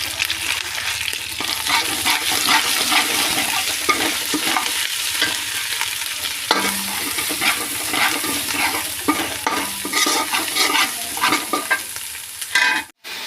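Chili, cumin and coriander paste with turmeric powder fries in a hot pan, sizzling steadily while a utensil stirs and scrapes with occasional clanks against the pan.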